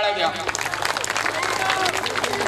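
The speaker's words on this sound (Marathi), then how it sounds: "त्यांच्यासाठी स्टेजवर इथे येण्याच्या आधीच जोरदार टाळ्या द्या." A school centenary audience applauds performers about to take the stage, a dense, steady wash of many hands clapping at moderate distance, with crowd voices mixed through it.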